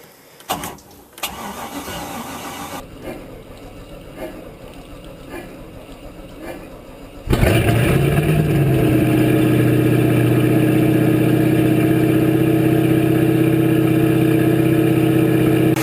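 A MerCruiser boat engine at freezing temperature cranks for several seconds with a rhythmic starter whir, then catches and settles into a loud, steady, close-up idle rumble.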